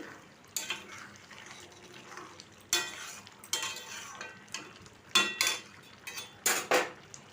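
A spatula scrapes and clinks against a pan as a thick ridge gourd curry is stirred. About eight separate, close strokes come in an uneven rhythm over a quiet background, with no talk.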